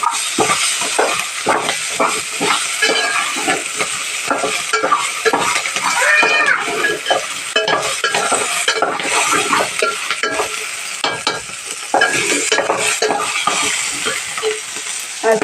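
Garlic frying in a pan while being stirred, a loud close sizzle with constant clinks and scrapes of a metal spoon against the pan, busy and irregular, without speech.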